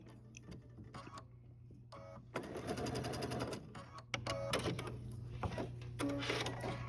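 Domestic sewing machine stitching Dresden plate quilt fabric pieces, sewn from the raw edge, running in two sustained bursts of rapid mechanical whirring with brief pauses between, close and steady.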